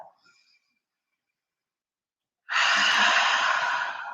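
A long, audible exhale during yoga practice breaks a near-silent pause and rushes out steadily for over a second, close and breathy, after faint earlier sounds.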